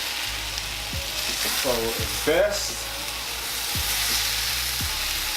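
Hash browns fry in a skillet with a steady broadband sizzle throughout, broken by a few scraping spatula strokes and a brief clatter, with a single short spoken word.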